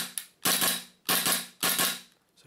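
A WE SIG Sauer P320 M17 gas airsoft pistol being dry fired, three sharp, close mechanical clacks in quick succession, each ringing briefly, followed by a faint click.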